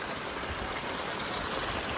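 A strong stream in the Konkan, swollen after heavy monsoon rain, rushes with a steady, dense roar of flowing water, close and unbroken, with no voices.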